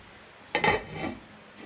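A lid goes onto a cooking pot of smothered potatoes with one quick metallic clank and a short rattle, close by, followed by a faint background hiss.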